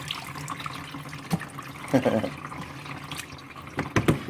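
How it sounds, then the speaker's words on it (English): Water running into a Danby twin tub washing machine, a soft steady wash of liquid with brief splashy swells, heard fairly close with faint talk around it. "You can hear the water."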